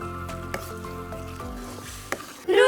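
Tomato purée with chillies frying in a pan over a high flame, with a soft continuous sizzle and squishy bubbling under steady background music, and a brief louder spatter near the end.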